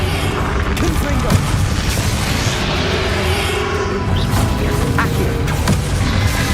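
Repeated fire-spell blasts from Confringo combat in Hogwarts Legacy, dense booming impacts in a loud battle mix with voices shouting over the din.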